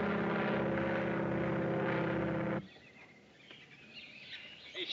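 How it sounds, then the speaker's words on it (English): A propeller airplane from the late 1930s drones loudly overhead, a steady broadband engine roar that cuts off abruptly halfway through, leaving faint background sound with scattered chirps. "That won't hurt you. It's only an airplane."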